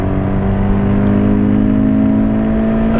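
A naturally aspirated Toyota GT86 engine holds a loud, steady drone heard from inside the car, a smooth sustained tone with only a slight rise toward the end and no voices.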